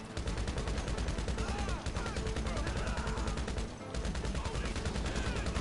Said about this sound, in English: Coming to GTA 5, dual wielding mechanic, you're able to dual wield two MGs